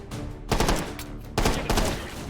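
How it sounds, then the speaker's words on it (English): Gunfire from the VR shooter Take & Hold: two loud bursts of rapid automatic shots about a second apart, each with a lingering tail, close and with no talk over them. "He shot his gun."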